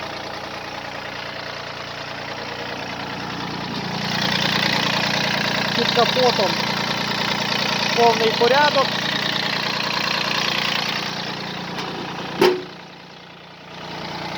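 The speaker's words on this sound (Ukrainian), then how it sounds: "Чуєте роботу двигуна, три циліндри" A three-cylinder Mitsubishi MT205 tractor engine idles with a steady, low, chugging rumble throughout as someone speaks nearby, ending with a brief sharp knock.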